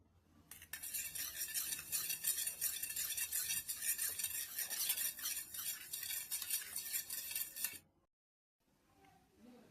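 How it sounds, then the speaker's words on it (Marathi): Eggs being whisked for an omelette, a steady brisk clatter of utensil against bowl running close and loud for about seven seconds before stopping, with no talk. "आता याला 2 अंडे करून घेऊ, मिक्स करून घेऊ."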